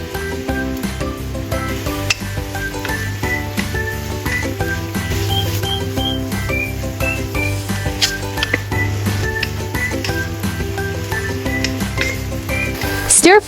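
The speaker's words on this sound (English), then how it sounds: "Stir-fry shredded carrots until lightly caramelized." Shredded carrots and cabbage stir-frying in a pan, with a steady sizzle under light clinks of a utensil against the pan, rhythmic tossing and stirring, close and fairly loud alongside soft background music.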